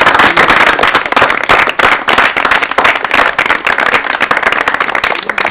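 Vigorous audience applause on an Urdu-language quiz programme, loud and close, with sharp individual claps blending into a continuous crowd clatter for several seconds.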